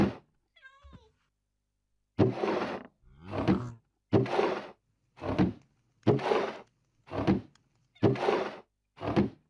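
Minecraft barrel opening and closing sounds, a series of about seven short wooden creaks and thunks in a steady rhythm, clear and close, preceded by a brief chirp.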